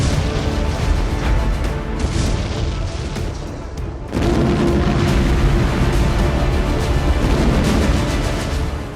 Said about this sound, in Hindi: सैन्य ठिकाने में जबरदस्त ब्लास्ट हुआ।